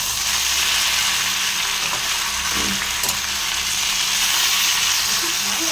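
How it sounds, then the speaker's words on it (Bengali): Roti fries in a pan at home, a loud, continuous close-up sizzle with faint clinks now and then and no voices. "রুটি ভাজা এটা একটু পরে ক্রিস্পি ক্রিস্পি হয়ে যাবে"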